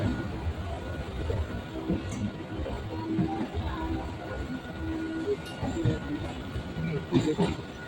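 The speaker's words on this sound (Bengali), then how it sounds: "ছ নম্বর প্ল্যাটফর্মে দাঁড়িয়ে রয়েছে এএমওএসি লোকাল ট্রেন" A local train stands at a platform in Sealdah station, its low rumble and hiss running steadily under busy station noise, with faint clanks and scattered voices around.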